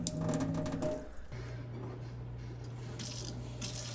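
Water runs steadily from a filtered kitchen faucet after a short clattering start, a soft even hiss of flow into the sink heard close and quiet.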